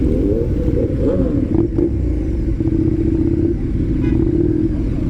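A motorcycle ridden along a road in Abuja, Nigeria, its engine droning loud and steady close by with slight shifts in pitch and some clatter, and no voices.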